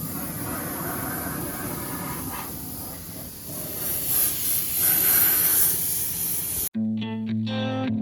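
Spray can laying down a coat of high performance gloss black enamel, a steady close hiss running continuously for several seconds before stopping abruptly near the end.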